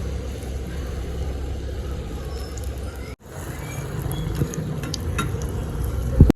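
Malpua, a palm fritter, frying in hot oil, giving a steady soft sizzle and bubbling that holds throughout, briefly dropping out midway before resuming with small clinks near the end.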